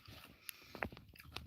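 Biting and chewing into a Canadian milk chocolate snack, with a sharp crunch near the middle and softer chewing sounds around it, close and fairly quiet, with no talking.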